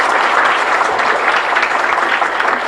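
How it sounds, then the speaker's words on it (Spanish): A crowd applauds steadily at a Catholic Mass in a chapel in Ypané, dense clapping that holds at an even level from start to finish. "Fuerte aplauso para todos ustedes."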